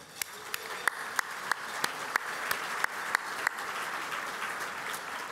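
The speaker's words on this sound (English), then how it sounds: "Join me in a round of applause." A leadership dinner audience applauds at moderate volume: a steady wash of hands with several distinct sharp claps close by in a regular rhythm during the first three seconds, then a softer continuous patter.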